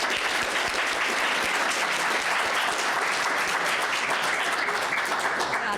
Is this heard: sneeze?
no